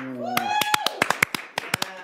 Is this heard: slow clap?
yes